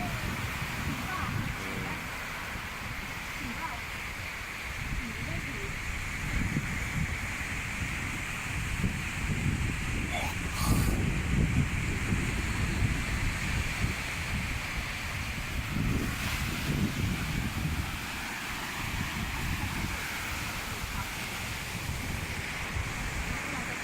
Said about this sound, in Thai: รู้สึกวันนี้น้ำจะขุ่นลมแรง